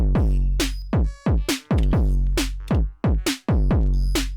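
An Elektron Syntakt synthesizer preset plays a tone texture in choppy bursts, bright harmonic sweeps dropping in pitch and cutting off abruptly, like a fax machine's screeching handshake.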